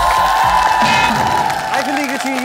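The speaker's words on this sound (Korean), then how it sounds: "박수!" Studio audience applause at a Korean TV variety show, a loud wash of clapping and cheering with voices mixed in and a shout near the end.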